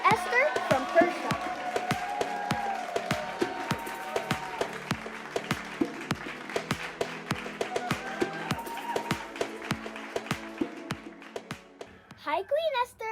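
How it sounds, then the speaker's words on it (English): A small audience claps in an even, rhythmic beat to welcome a guest. Voices talk over the claps, which thin out and fade toward the end. "Let us give a warm of applause to Queen Esther from Persia."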